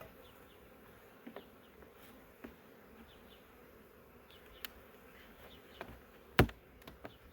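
Honeybees buzzing in an open hive during a spring inspection, a continuous low hum of many bees with a few sharp clicks and knocks from the hive parts, close by and alone.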